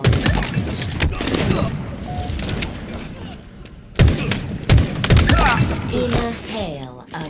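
Rapid gunfire in Halo Infinite comes in dense bursts of sharp shots, with heavier booms near the middle and end, mixed with game effects and voices over the action.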